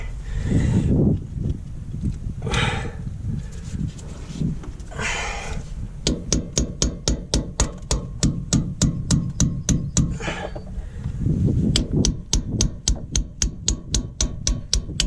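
A screwdriver works at the outer shell of an ABS sensor on a DAF LF truck's rear hub. Close metallic knocks and scraping come in bursts, with a long run of rapid, regular tapping partway through.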